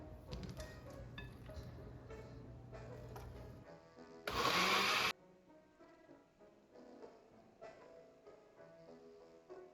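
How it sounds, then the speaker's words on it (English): A kitchen blender whirs in one short, loud burst of about a second while blending peeled mangoes, framed by quieter clinks and handling noises. "we're going to transfer them into a blender"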